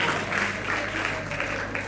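Brief burst of steady clapping from a church congregation, moderately loud and sustained over a couple of seconds.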